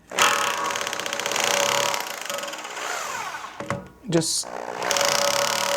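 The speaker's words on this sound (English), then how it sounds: "set it up onto an SDS drill" SDS drill set to hammer mode only, driving an agitator against a central heating radiator to loosen magnetite, a fast buzzing rattle that runs close and fairly loud, pausing briefly near the end before resuming.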